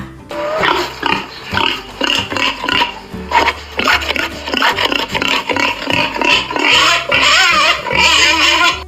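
Repeated pig grunts and snorts with rough, raspy texture, loud and close, continuing in bursts throughout.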